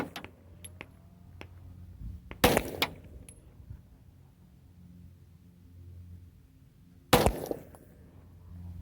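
Glock 35 firing subsonic 9mm reloads without a suppressor: two sharp, loud shots several seconds apart, each with a short ringing tail, over a quiet outdoor range.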